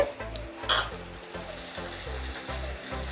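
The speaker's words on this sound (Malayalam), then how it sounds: "ഇവിടെ സവാള വഴന്ന് വന്നിട്ടുണ്ട് ഇനി നമുക്ക് നമ്മുടെ പൊടികളൊക്കെ ഇട്ട് കൊടുക്കാം" Onions sauté in a pan over a medium flame with turmeric powder added, for pearl-spot fish roasted in banana leaf, giving a steady close sizzle and fry with soft rhythmic stirring underneath.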